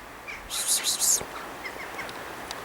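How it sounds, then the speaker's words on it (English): A robin gives a bright, high burst of trilling notes, followed by a few faint scattered chirps against quiet outdoor winter air. "There's a robin there."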